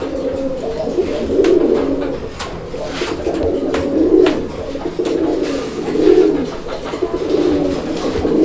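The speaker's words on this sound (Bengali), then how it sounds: "এটাও গোল্লা কবুতর অ্যান্ড এটা হচ্ছে একদম পিওর দেশি গোল্লা" Desi Gola pigeons coo in rolling, repeated bursts roughly every two seconds, close and fairly loud against a light background murmur.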